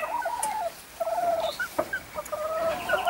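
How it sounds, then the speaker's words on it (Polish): A Dutch white-crested rooster crows and clucks repeatedly nearby, short harsh calls in quick succession with no talking. "kogutek, jak słyszycie, szaleje"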